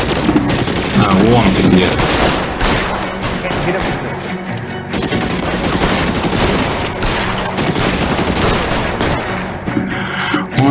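Rapid, sustained bursts of automatic gunfire with scattered crashes in the video game L.A. Noire, loud and relentless, while someone talks briefly over the shooting.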